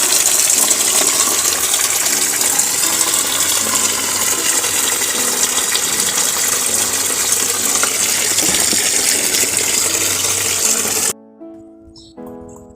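Tap water gushes at strong pressure in a home kitchen, a loud continuous rushing stream that cuts off abruptly near the end, leaving faint clinks and quiet.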